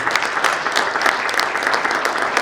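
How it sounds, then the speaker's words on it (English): Dense, steady applause from an audience at an engineering, iron and steel industry report event as a permanent secretary arrives, loud and close, filling the whole moment without talk. "A round of applause as he comes through."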